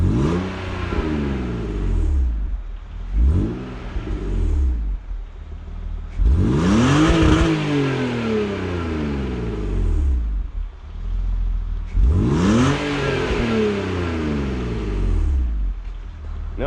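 A BMW E46 328i inline-six revs hard three times, each rise climbing steeply before falling back to a steady idle between the bursts. The engine is close, loud and heard alone with no talking.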